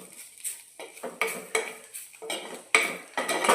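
A utensil scrapes and clinks against a pan as salai fish puttu is stirred with coriander powder, in repeated short, close strokes with no talk.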